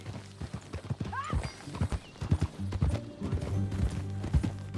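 Hooves clip-clopping at a steady walking rhythm from a horse in the video game Red Dead Redemption 2, with a brief whinny early on and quiet talking mixed in.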